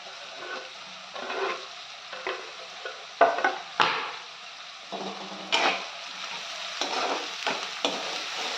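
Onions and green chillies frying in a pan, a bright sizzle punctuated by repeated spatula scrapes and clanks against the metal, loud and close with no voices.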